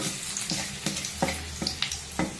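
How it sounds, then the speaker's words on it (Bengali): Garlic fries in a hot wok with a crackling sizzle, and a spatula scrapes and stirs a few times in quick bursts. Nobody speaks. "প্রথমে কড়াইতে রসুন দিয়ে দিলাম"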